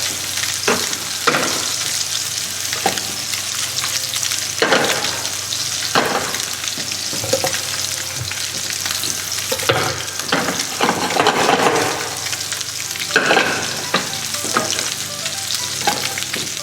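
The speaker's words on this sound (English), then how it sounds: "The fish I'm going to cook until you can see brown kind of on the outside." Catfish fillets fry and sizzle in a hot pan, a steady close crackle running the whole time with occasional louder spits and bursts, no talking.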